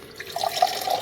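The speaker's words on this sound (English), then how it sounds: "Rinse the cup." Lake water swishes and splashes briefly while a cup is rinsed out, a short, close, steady wash of running water with no talking.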